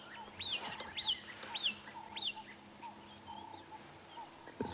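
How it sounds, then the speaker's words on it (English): Starlings and other birds call in the South African bush of the Sabi Sand, repeated bright whistled notes and chirps rising over a faint background, moderately close with quieter calls mixed in. "No doubt there's some starlings there."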